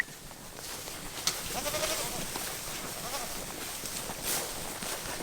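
Kiko goats bleating outdoors in a grassy pen after a storm, a faint short bleat or two rising over steady wind and background noise.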